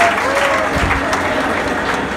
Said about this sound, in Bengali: জোরে একবার হাততালি দেওয়ার জন্য।